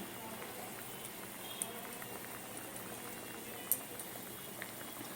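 A tangy fish roe curry simmering in a pot, giving a soft, continuous bubbling hiss at low volume with a couple of faint knocks, no voices.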